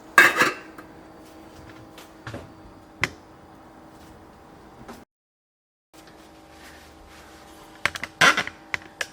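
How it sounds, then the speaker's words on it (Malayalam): A lid set onto a cooking pot of just-boiled water after the heat is switched off, one sharp metallic clatter near the start, then lighter clinks and a louder rattle near the end, close and alone. "മൂടി വയ്ക്കുകയാണ്."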